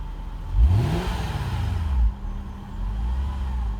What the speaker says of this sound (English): Being a V8, you'd expect it to have more of a sort of V8 exhaust note and a bit of a burble at idle, but this is extremely quiet.